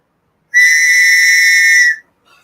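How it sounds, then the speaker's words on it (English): A single loud, shrill whistle blast from a survival whistle, held steadily for about one and a half seconds, sounds close by against silence. "so I want to try the whistle out"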